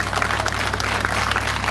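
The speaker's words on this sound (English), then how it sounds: "So once again, give them a round of applause." Applause from an audience at a Knox Street Ramleela after a children's performance, a steady dense wash of clapping with no gaps, moderately loud and sustained throughout.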